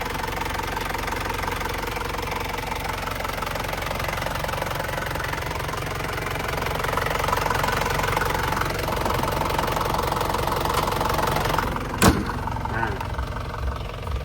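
A 1997 Isuzu Dragon Eye 2.8 SLX cab pickup engine idles with a steady rumble and diesel-like knock, rising slightly midway, with someone speaking over it.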